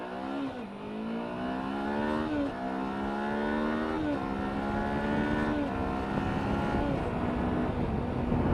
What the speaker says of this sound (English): It's a lot of fun to just rev it out.